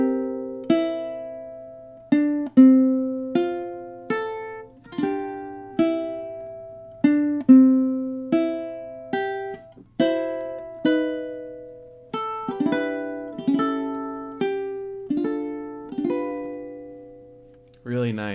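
A ukulele plays the second theme of a song, bars 9 to 16, as single plucked notes and strums in steady time, each note ringing and decaying alone and up close over about eighteen seconds.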